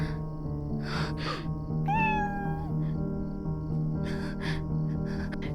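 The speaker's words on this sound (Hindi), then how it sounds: "कोई और बिल्ली नहीं हो सकती" A cat meows in a Hindi-dubbed South Indian thriller, one clear rising-falling call under a steady low background hum, with faint rustling before and after.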